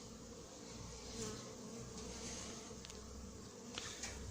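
Honeybees buzzing steadily around a beehive that has just been moved during a colony split, a dense continuous hum from many insects, fairly faint and even throughout.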